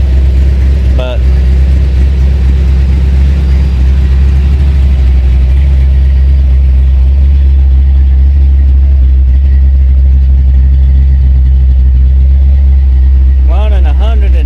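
A Ford Fox Body Mustang engine runs at idle, a loud, deep, steady rumble close by that continues unbroken, with brief voices at the start and again near the end.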